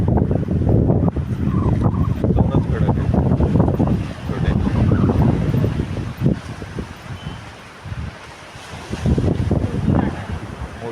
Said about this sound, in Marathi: मोठी लाट आली तरच फुटणार त्याच्यावर